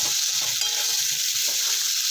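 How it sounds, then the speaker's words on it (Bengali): Spinach frying with salt in a pan gives a constant hissing sizzle with faint stirring underneath, steady and close with no voices. "লবণটা দিয়ে সবজিটাকে ভাজা ভাজা করব"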